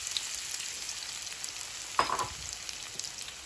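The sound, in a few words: potatoes frying in oil in a preheated skillet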